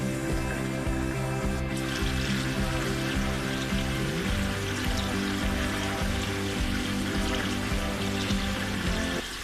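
Meat for Delhi-style nihari fries in oil over a high flame, a dense, continuous crackling sizzle that stays close and even throughout.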